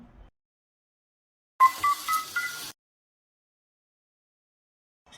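A telephone is dialed to make a call, a quick run of about five short keypad tones in close succession, clear and isolated amid otherwise silent surroundings.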